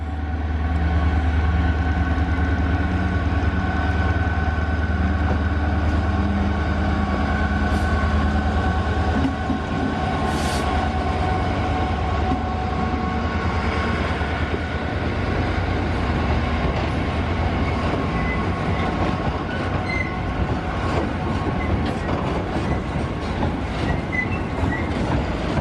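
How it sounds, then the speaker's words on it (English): An intermodal piggyback freight train of over 200 cars rolls steadily past a station platform, a long continuous rumble with clattering wheels and occasional squeals, loud and close throughout. "where this train should have come through"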